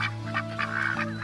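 Ducks quack in several short, loud calls close by, with a farm setting suggested, and a few overlapping honking bursts over about a second with no talking.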